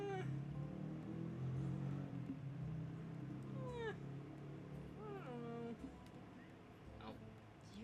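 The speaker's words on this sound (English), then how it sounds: "Do you guys hear that Sharknado meow" Cat meowing repeatedly, several rising and falling meows spread over a few seconds above a steady background hum, moderately loud.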